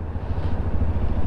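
A SINNIS Terrain 125 motorcycle engine drones steadily while riding, a close, loud low rumble with wind noise and no breaks over the short stretch.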